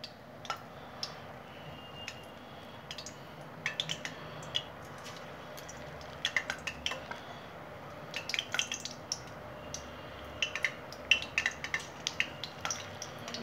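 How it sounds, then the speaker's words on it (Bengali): Mustard flower and red lentil fritters fry in oil with a soft, steady sizzle, broken by occasional sharp clicks and taps of a utensil against the pan. "এখন আমি বড়াগুলো ভাজবো।"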